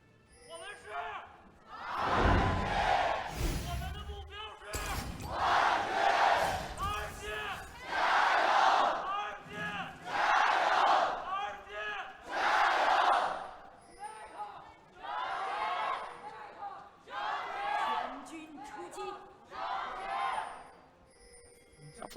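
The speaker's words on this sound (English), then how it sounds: "Now it's time to hear from the crowd, and if the RNG fans have still got the support" Esports arena crowd of RNG fans at an LPL Summer Split match, chanting and cheering in loud rhythmic waves that surge and fall repeatedly, with voices shouting in unison and bursts of roaring between chants.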